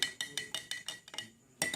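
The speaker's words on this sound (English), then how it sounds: "I'm going to take my spoon and I'm going to stir that in" A spoon clinks against a glass while stirring a red candy mixture, with about eight quick, bright taps in an even rhythm, a short pause, then a final clink, close and fairly quiet.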